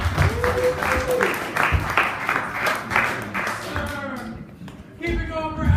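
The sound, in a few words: comedy club audience applause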